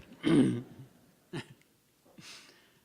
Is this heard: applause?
no